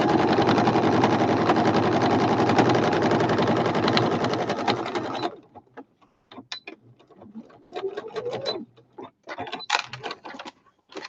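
A sewing machine runs steadily while a sewing machine cover is being stitched, a loud, even whirring drone for about five seconds. It then stops, leaving scattered clicks and small handling knocks.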